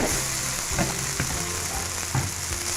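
Boiled, drained vermicelli fries in a pan with a spoonful of asafoetida for semiya bonda, giving a steady close sizzle with a few clattering stir knocks and no talking.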